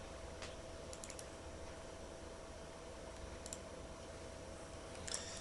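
Someone types text on a computer keyboard in Word, with sparse, faint key clicks in short scattered bursts under a steady background hiss.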